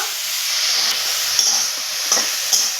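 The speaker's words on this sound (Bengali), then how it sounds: "শাকগুলো দেওয়ার পরে এইভাবে নাড়াচাড়া করে শাকটা আমি রান্না করে নেব" Bathua greens fry with chili and garlic in a pan, a loud, steady hissing sizzle filling the whole stretch, punctuated by a few soft stirring scrapes.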